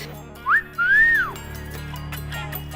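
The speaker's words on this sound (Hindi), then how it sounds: "अरे हमारी सीटी का जवाब सीटी से ना सही, कम से कम स्माइल से तो दो" A man gives a loud two-part wolf whistle at a girl, a short rising chirp followed by a longer rising-then-falling note, with soft background noise afterward.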